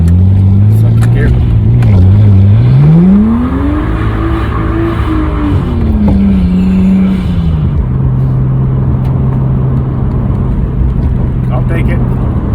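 A Nissan Skyline R33 with an RB25 engine and HKS air intake accelerates hard in second gear, loud and close, engine pitch climbing then settling into a steady drone as revs level off.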